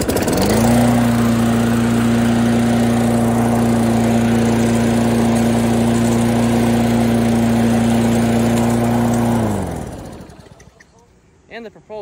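A repaired old walk-behind lawn mower engine runs loud and steady at close range with a constant drone, then cuts off and winds down to near silence.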